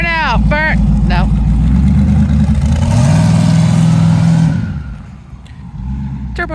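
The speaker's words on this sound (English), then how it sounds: "Turbo noises." A twin-turbo Chevrolet Camaro revs loudly up close, its engine note rising and holding before cutting off, with turbo whoosh and flutter as the throttle drops; excited voices shout over the engine.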